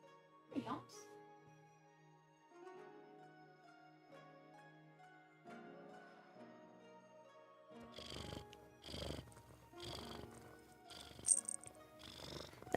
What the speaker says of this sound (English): you guys are gonna hear how loud she purrs